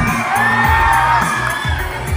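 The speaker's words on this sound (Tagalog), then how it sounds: "Paramdaman naman natin pagmamahal natin kay Mr. Paolo, isang malakas na hiyawan" A crowd at a Filipino showbiz event shouting and cheering loudly for Paulo Avelino, a steady dense roar of voices with no breaks.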